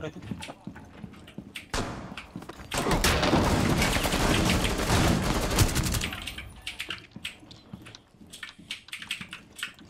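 Rapid gunfire bursts in the online shooter Rainbow Six: Siege, dense and loud for a few seconds mid-clip, with sparser clicks and shots around it and players talking over the action.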